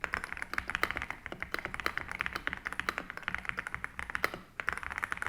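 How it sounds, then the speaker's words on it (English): Close, crisp key presses on a Dareu EK75 Pro mechanical keyboard rattle along in a fast continuous stream, with a short lull near the end before typing resumes. "I want you guys to hear how good these mechanical switches sound."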